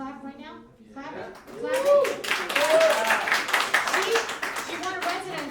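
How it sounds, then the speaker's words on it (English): A comedy club audience at a Broadway comedy club breaks into clapping, a dense, lively burst of applause that swells and holds steady, with voices calling out over it. "Are you guys gonna go clap right now? Clapping?"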